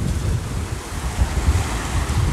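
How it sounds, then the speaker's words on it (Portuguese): Ocean waves break and wash onto a beach, a loud, continuous rushing surf with uneven surges, mixed with heavy wind buffeting the microphone. "Olha as ondas."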